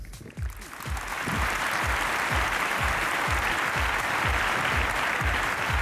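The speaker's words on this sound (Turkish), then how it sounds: "Güzellerimize kocaman bir alkış alalım." Sustained applause from a large crowd at the Miss Turkey 2015 pageant, steady and loud throughout, with a few rhythmic low thumps underneath like a beat.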